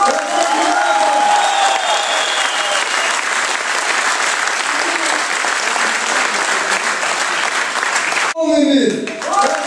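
Fans applaud and cheer at the Alania Vladikavkaz 2019 team presentation: a dense, loud wave of clapping and crowd noise lasts about eight seconds, and then a voice calls out near the end.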